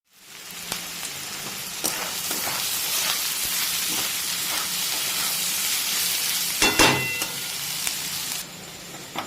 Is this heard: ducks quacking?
no